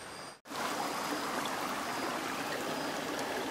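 A waterfall stream rushes steadily, a dense, even wash of flowing water after a brief dropout near the start, close and continuous with no voices.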